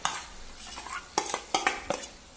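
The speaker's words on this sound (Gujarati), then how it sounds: "સારી રીતે મિક્સ કરી દઈએ" Potatoes stirred into soft cooked-down tomato masala in a pan for a dry fasting-style potato bhaji: a few sharp spoon scrapes and clinks against the pan over a faint sizzle, close and fairly quiet, with no talking.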